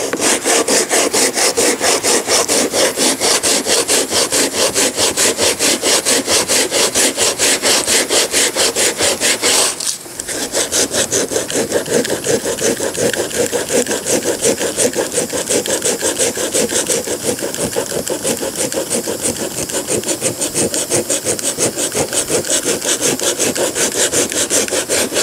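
Sandpaper works over a repaired 2014 Camaro console being modified to fit a 1970 El Camino, a loud, continuous, fast rhythmic rasping that stops briefly partway through and then resumes at the same pace.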